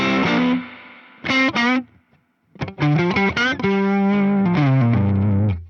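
An electric guitar played through a Fender Tone Master Pro with spring reverb plays a few chords and notes with heavy effects, ringing tails and a clear gap of silence between phrases.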